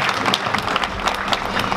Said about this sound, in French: On nous applaudit Pasteur Romial